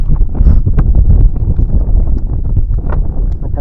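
Strong wind roars across a small rowed boat out on the water, a dense, steady low rumble buffeting the microphone throughout with no talking.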